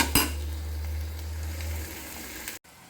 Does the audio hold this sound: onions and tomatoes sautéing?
yes